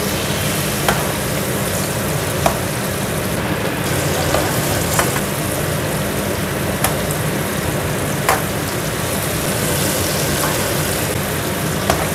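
Food sizzles and fries steadily in a pan at home, a dense continuous crackle with occasional sharper pops, close and loud, with no talk over it.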